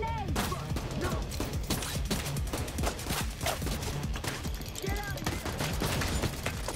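Dense, continuous gunfire and explosive bursts from a firefight in the video game The Division 2, with shouting voices over the steady, loud barrage.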